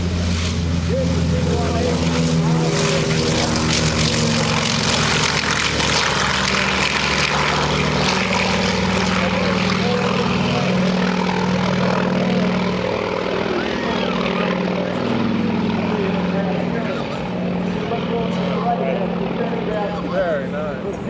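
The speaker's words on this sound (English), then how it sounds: "That's the lead-in aircraft for Cal Fighters" A propeller-driven lead-in aircraft for the Cal Fighters flies past at EAA AirVenture with a loud, sustained engine drone that swells and fades slightly. An announcer talks over it throughout.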